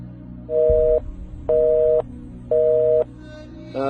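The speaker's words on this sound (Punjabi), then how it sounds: "ਲਓ ਜੀ ਫੋਨ ਲਾਈਨ ਕੱਟ ਦਿੱਤੀ ਗਈ ਆ" Telephone busy tone after a call is cut on a radio phone-in line: three evenly spaced steady electronic beeps, each about half a second long with equal gaps, loud and clear over a low background hum, a fourth starting at the end.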